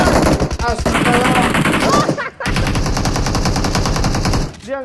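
Rapid bursts of automatic gunfire from a PUBG Mobile match ring out loud and close, repeated volleys nearly continuous across the stretch with a short gap in the middle, with a little voice buried underneath.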